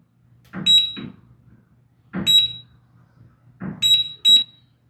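A biometric gun safe beeps in pairs, three double-beeps spaced about a second and a half apart, each paired with a faint mechanical click, close and clear.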